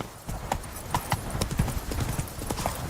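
Steady clip-clop of horse hooves from The Witcher 3, a ridden horse trotting at close range with a faint whinny and a low game background.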